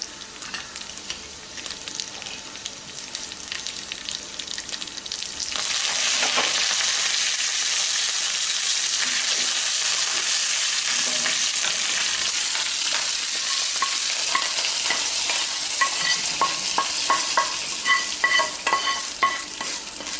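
Asafoetida and dried red chillies for tempering hit hot oil with a sudden loud hiss that jumps up partway through, then keeps sizzling and crackling densely at close range, with no voices.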